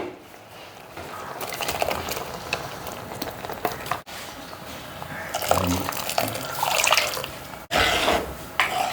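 Ground spice paste is poured into a simmering tomato curry in a pan, making soft wet splashing and trickling sounds across several seconds, with someone talking over it.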